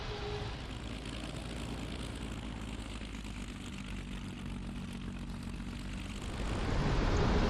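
A Bf 109 G-6 piston engine in a flight simulator game taxiing on the ground, a steady droning propeller rumble that holds evenly throughout and swells louder near the end.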